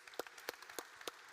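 A small audience at a Somali cultural festival launch event claps sparsely, with distinct individual hand claps standing out at a low level.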